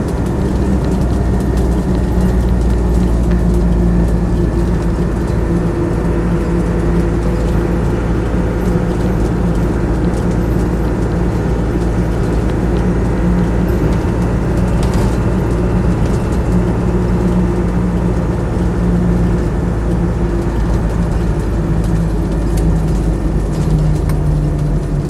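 A Land Rover 90 soft top with a 300Tdi diesel engine drones steadily while driving, a loud continuous low rumble with wind and road noise inside the cab, no talk.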